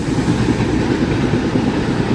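The Vikrama Simhapuri Amaravathi Super Fast Express runs along the line between Gudur and Vijayawada, giving a loud, steady rumble of wheels and carriage noise from on board, with no talk.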